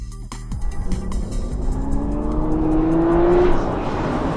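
A 2009 Nissan GT-R and a 2006 Ford GT race on a track through a slalom, with a loud engine note climbing steadily under acceleration and tire noise beneath it.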